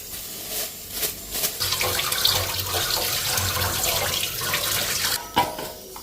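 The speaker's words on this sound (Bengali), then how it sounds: "গামলাটার মধ্যে নিয়ে ধুয়ে আনি।" Running water splashing as goat meat is rinsed in a bowl, a steady close wash of water with bursts of pouring and sloshing throughout.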